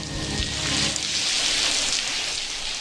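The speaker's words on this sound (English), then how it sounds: "And it's raining." Steady rain hiss in a New York City scene of the video game Blackwell Convergence, dense, broadband patter, continuous and fairly loud, no voices over it.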